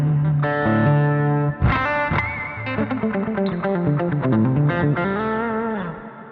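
Electric guitar through a JHS Morning Glory distortion pedal, a warm, moderately overdriven tone playing chords then a melodic run, loud and close with no voices.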